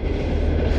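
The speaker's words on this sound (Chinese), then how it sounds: "这在铁道边上，还会过火车" A train rolls past at close range on a railway beside a fishing spot, a loud continuous rumble of wheels on track.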